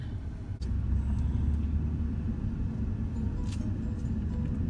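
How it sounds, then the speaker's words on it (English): A truck engine idles at a landfill, a steady low rumble near the listener, briefly interrupted by a knock before settling back into its even drone. "I'm gonna leave the truck running so it won't be so hot when we get done"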